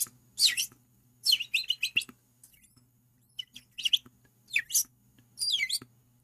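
Small birds chirp and tweet in quick, bright bursts separated by short pauses, several calls close by and alone over a faint low hum.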